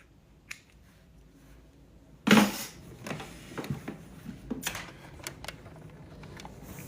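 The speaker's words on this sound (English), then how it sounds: "snip your threads at the fabric" Scissors snipping sewing threads at the edge of fabric: one sharp, loud snip followed by a series of softer clicks and small handling taps close by.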